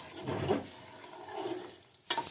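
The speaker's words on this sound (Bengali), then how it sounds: "এবার আমি ভালো করে নেড়ে নিচ্ছি যাতে একটু ঘাটা ঘাটা হয়ে যায়।" A spoon stirs and mashes vegetable khichdi made with winter vegetables in a pot, producing a few soft scraping swishes that end in a sharper clink against the pot.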